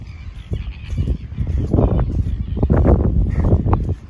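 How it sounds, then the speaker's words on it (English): Seabirds call near the water at Jumpinpin on the Broadwater, Queensland, a dense run of honking, squawking cries that overlap and swell through most of the few seconds, close and loud. "Your seagulls here hanging around wanting food"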